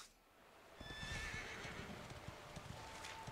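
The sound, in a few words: horse in video game Dragon Quest XI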